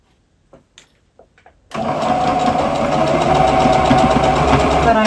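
A sewing machine stitches gathered fabric, starting abruptly after a few soft sounds and running as a loud, steady, close whirring hum to the end, with a brief spoken word just before it starts.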